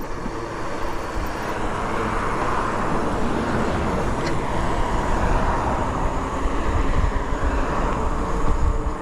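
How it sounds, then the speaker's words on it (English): A steady roar of road traffic nearby, vehicles rushing past continuously with a broad rumbling hiss. "riding with the cars, even the sound of them, it just ruins the whole vibe"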